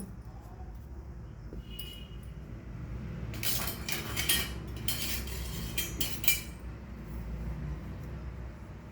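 A spoon stirs fenugreek seeds in oil heating in a pan, giving bursts of metallic scraping and clinking against the pan over a steady low sizzling background.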